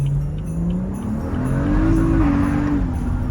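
A BMW F30 sedan pulls hard under heavy acceleration, its engine note climbing as the tires spin and squeal, loud and close over a few seconds with no voices.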